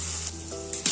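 Salt, turmeric and ground coriander-cumin sizzle in a hot pan for a Bengali pulao base, a steady close hiss with a soft steady hum beneath and a brief louder crackle near the end.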